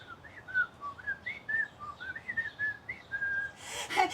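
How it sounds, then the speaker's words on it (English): Someone whistles a light, wavering tune in short melodic phrases, fairly soft and close, ending with a brief rustly noise. "And then he tried to whistle a tune."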